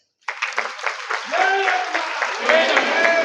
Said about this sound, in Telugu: ఇప్పుడు మీరు చప్పట్లు కొట్టచ్చు